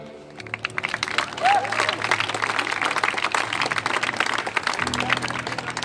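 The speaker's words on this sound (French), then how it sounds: "un tonnerre d'applaudissements pour Ali" A crowd occupying a theatre in Lorient breaks into lively applause, clapping building quickly and staying dense and energetic, with some voices and cheering mixed in the room.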